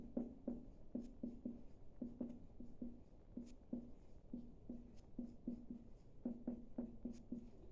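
A math problem written out by hand, soft scratchy strokes of a pen or chalk in short, irregular bursts with small pauses, faint and close against a quiet background.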